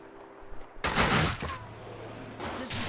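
Bursts of rapid gunfire from the video game Max Payne 2, a loud, dense volley erupting suddenly and then trailing off into a lower rumble, with a second burst building near the end.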